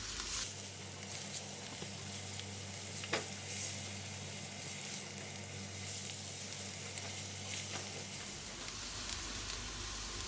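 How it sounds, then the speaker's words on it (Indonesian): Sliced garlic and shallots sautéing in a pan for chicken stir-fry, a continuous crackling sizzle with occasional scrapes and stirs of a utensil, close and steady throughout. "Ditumis bawang putih, bawang merah."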